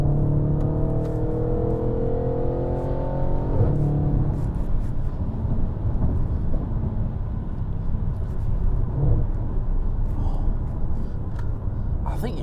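A 450bhp Audi RS5 drives along with a steady, full engine drone and rising gear-pulling tones early on, the rumble continuing throughout as a voice speaks over it.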